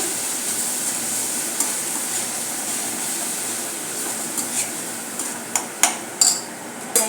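Coriander paste roasting in a pan, a constant hissing sizzle at moderate level with sparse scrapes and taps from stirring that grow more frequent toward the end, close and without speech.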